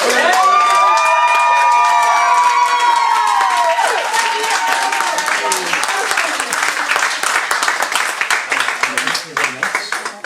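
Wedding guests at a civil ceremony in France burst into loud close applause and cheering for the newlyweds, with bright whoops and shouts over dense clapping that turns into sharper, more separate claps toward the end.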